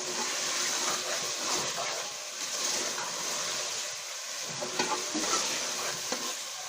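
Meat and potatoes with masala fry in a pot of aloo gosht, a steady close sizzle with intermittent scraping stirs and wet splashy bursts throughout, no speech.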